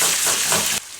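Onions dropped into a hot pan for chicken thighs, a loud hiss of frying that cuts off abruptly near the end.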